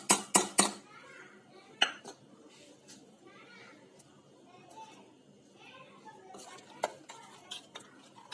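Tender coconut payasam is stirred in a pot, with a few sharp utensil clinks against the vessel near the start, followed by softer intermittent scraping and clatter. Faint voices murmur in the background.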